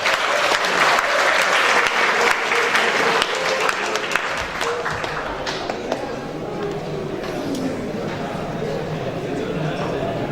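Audience applause for Maharaj at a national seminar in Bali, sustained and fairly loud clapping from a crowd in a hall, steady for about ten seconds with no talk.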